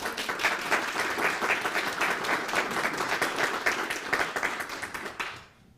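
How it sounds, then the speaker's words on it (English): An audience at an annual academic meeting applauds the speakers, a steady roomful of hand claps lasting about five seconds before fading quickly to quiet. "Let's give a hand to Tom and Nadir"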